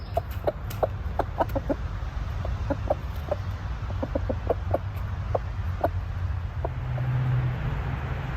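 Backyard chickens cluck in scattered short calls over a steady outdoor background hum, moderately near and unhurried, with no talking.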